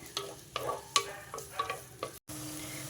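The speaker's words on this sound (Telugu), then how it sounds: "కట్ చేసి పెట్టుకున్న ఉల్లిపాయ పచ్చిమిర్చి వేసేసుకున్నా. ఈ ఉల్లిపాయ పచ్చిమిర్చి కొంచెం వేగాలి." Chopped onion and green chillies fry in hot oil for a chicken and drumstick curry, with several sharp spoon scrapes and clinks against the pan over a faint sizzle, a brief pause, then a steadier sizzle resuming.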